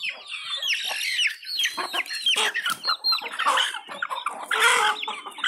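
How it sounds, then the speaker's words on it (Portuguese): A young Besterrilha chicken clucks and chirps in quick, busy bursts, close and fairly clear, with no voices over it. "aqui tem um franguinho besterrilha"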